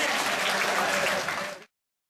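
Steady applause from a crowd, dense and continuous for under two seconds before stopping abruptly.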